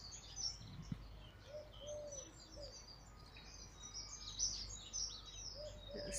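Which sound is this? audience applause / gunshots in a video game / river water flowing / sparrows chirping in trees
sparrows chirping in trees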